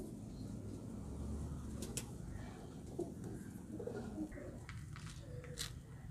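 Soft, low cooing from pigeons repeats through a steady outdoor background, with a few faint higher chirps mixed in.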